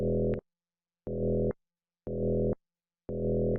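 A low, buzzy FM synth bass tone, made with Ableton, plays in four evenly spaced half-second bursts separated by silence.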